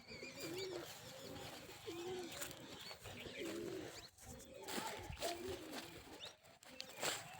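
A pigeon coos in repeated soft rolling phrases at a steady rhythm, moderately close, over outdoor background noise with occasional rustles and a faint voice.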